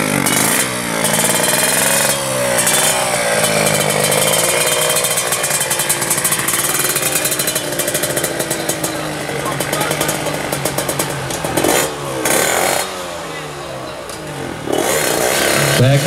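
Racing motorcycles, including a NOS-equipped Kawasaki Ninja in local porting class drag racing, rev loudly and continuously at the start line, a dense buzzing roar with brief dips, while an announcer talks over the noise.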